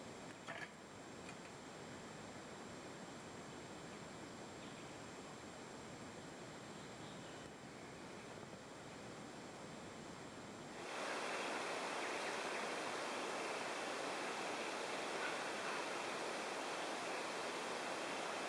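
Steady broadband rush of a creek flowing beside a campsite on an alpine trail, continuous and close, growing louder and brighter partway through, with no voices.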